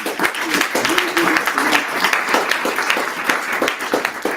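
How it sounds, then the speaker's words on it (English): A seminar audience claps in a close, rippling round of applause, moderately loud and fairly even, with faint voices mixed in. "let's give these guys a big round of applause"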